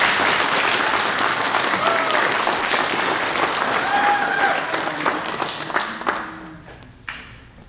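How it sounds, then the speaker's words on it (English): A school Arbor Day ceremony audience gives a sustained round of applause for Mr. Matt Kaiser, a teacher who has just performed music. The clapping is dense and full, then thins out and fades near the end. "let's give him a round of applause for that"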